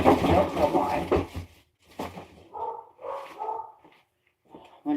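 Several dogs bark indoors, close and loud, in an overlapping flurry that breaks into short separate barks with pauses between them.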